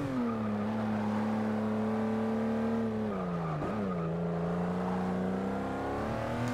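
A race car on a flying lap in Forza Motorsport 6, its engine holding a steady loud drone, dipping briefly as it lifts and shifts, then pulling back up with faint tire noise underneath.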